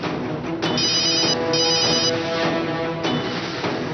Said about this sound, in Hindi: आई फोन उठाओ।